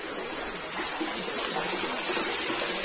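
Water pours steadily from a well in a farm field, a continuous loud rushing splash with no break.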